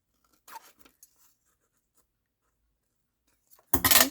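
Scissors cutting a paper envelope: a few faint snips and rustles near the start, a long quiet stretch, then a louder, close crunching cut at the end.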